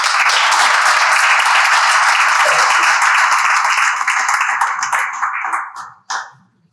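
Audience at a hospice inaugural event gives a loud, dense round of applause for a deputy mayor, sustained many-handed clapping that thins out and fades toward the end, with a last few scattered claps.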